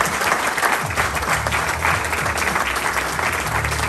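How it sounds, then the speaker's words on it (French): Audience applauding a team at a business awards ceremony, a dense, steady roar of clapping filling the whole stretch, with a faint low hum or voice beneath. "Est-ce que c'est possible de les applaudir"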